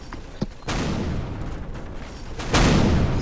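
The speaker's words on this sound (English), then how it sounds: "Just follow the explosions." Explosions in the Roblox video game burst out loud and close, two heavy booming blasts with a noisy rumbling tail between them, no talk over them.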